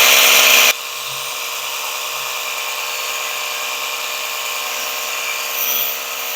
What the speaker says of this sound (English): Now we're going to put it on turbo and see if we can blast off some of the moss off of my lattice work gate.